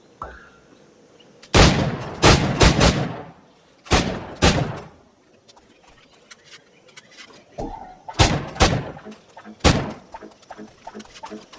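Weapon strikes hit targets in a timed challenge in Assassin's Creed IV: Black Flag, making loud, sharp impacts in quick clusters of two to four, separated by short quiet gaps, with no voices.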